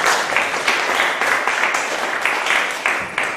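Audience at a music and poetry night on St. Croix giving a round of applause to poets and musicians, loud close-up clapping with a few sharp individual claps standing out in the steady wash.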